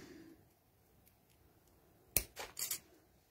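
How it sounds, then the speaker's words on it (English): Jewellery snips cutting out a stamped paper image, a quiet stretch followed by three or four sharp close snips in quick succession, no talking. "That's why I've got these jewellery snips"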